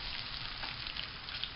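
Potatoes fry in a pan with a steady, soft crackling sizzle, faint and continuous with tiny pops, no voices over it.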